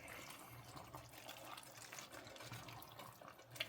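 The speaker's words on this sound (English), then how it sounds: "I think we're going to have to add some water here" Water is poured into a pot of tomato macaroni soup with diced tomatoes, making a soft, faint continuous running and splashing liquid sound at close range.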